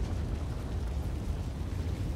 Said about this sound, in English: There's a fire tornado killing loads of bugs